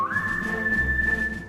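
A single person whistles one steady, clear sustained note that rises briefly at the start and then holds, close and fairly loud with no other sound.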